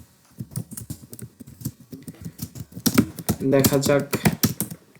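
Fast typing on a computer keyboard during a typing test: dense, rapid clicks of keys in uneven bursts, close and loud, with someone speaking briefly over the clatter.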